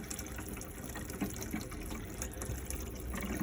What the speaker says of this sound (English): you want to come here to your tap and just pull the hot side and make sure that it comes through exactly like that